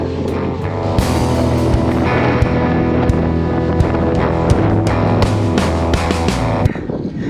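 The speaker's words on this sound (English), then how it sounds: "The wind is starting to get a little crazy." Strong wind buffeting the microphone while cycling into a headwind, a loud continuous roar with gusty rumble and sharp clicks throughout, no speech.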